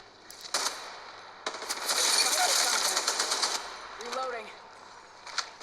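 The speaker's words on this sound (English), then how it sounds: "Shots fired." Rapid automatic gunfire rattles in bursts during a match in Apex Legends Mobile, with a long sustained volley in the middle and scattered single shots around it, alongside brief in-game voice callouts.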